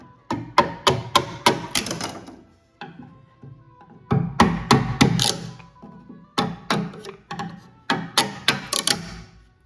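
Chisel being tapped to strip veneer off a grand piano pinblock, sharp wooden knocks in quick bursts of several strikes separated by short pauses, close and alone.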